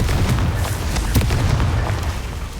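A fire spell explosion from the video game Hogwarts Legacy, a loud, dense booming blast with crackling bursts filling the short moment, without speech.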